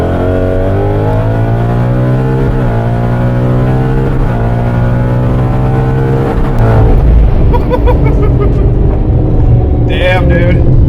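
A supercharged Ford Mustang GT with an automatic transmission accelerates hard, heard from inside the car. The engine note climbs steadily through the revs, loud and close, then drops sharply at an upshift before pulling again. Voices are heard under the roar.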